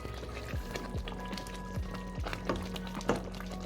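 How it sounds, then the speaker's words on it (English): Green seasoning simmers in a pot, quiet bubbling with soft pops and small liquid blips at an uneven pace, close but faint. "So this has been simmering for like 2 minutes"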